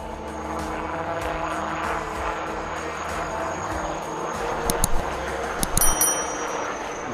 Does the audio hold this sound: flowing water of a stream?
no